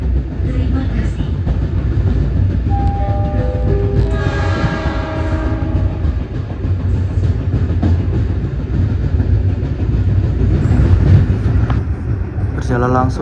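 A local commuter train runs between Surabaya and Sidoarjo in Indonesia, with a loud, continuous rumble of wheels and carriages and a series of close horn tones sounding over the din partway through.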